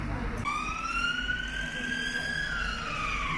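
A police car siren rises into a long wailing sweep that slowly falls away, loud over steady traffic rumble on a seaside promenade during a police chase.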